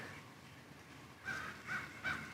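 A crow-like bird calls in a forest: three short, harsh caws, moderately near, rising in the second half after a quiet stretch of low ambient hiss.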